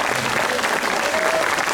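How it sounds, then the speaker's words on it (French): A political rally crowd applauds, a dense steady wave of clapping filling the hall without pause. "On peut les applaudir."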